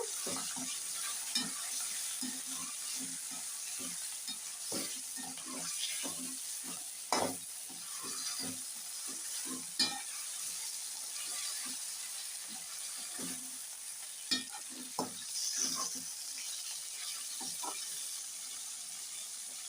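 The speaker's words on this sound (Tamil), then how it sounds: "சிக்கன் போட்டு நல்லா கலந்து விடுங்க." Chicken pieces sizzling and frying in a pan for biryani, with a steady hiss and repeated scraping stirs and clinks of a spoon, close and continuous without talk.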